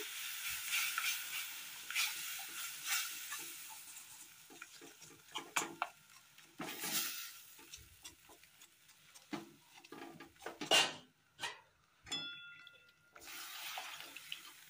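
Milk goes bit by bit into a butter and flour roux as a white sauce cooks, with uneven bursts of stirring, scraping and soft bubbling sizzle that rise and fall, some quiet gaps between.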